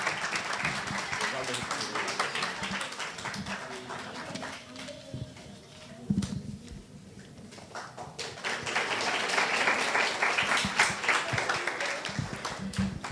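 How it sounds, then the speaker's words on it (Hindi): A church audience at a Christmas carol event claps loudly and continuously, with bursts of cheering and voices mixed in, swelling again toward the end. "जोरदार तालियां जी, वंडरफुल।"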